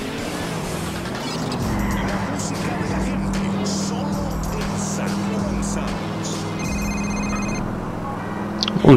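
A mobile phone rings in GTA IV on PC, repeated electronic ring tones near the end over a continuous car engine drone and traffic noise.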